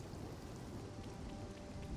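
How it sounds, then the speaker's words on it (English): Steady rain pours down in the Xenoblade Chronicles 3 video game, a dense continuous hiss of falling drops with a low rumbling undertone, even and unbroken throughout. "Probably not helped by the fact that it's raining."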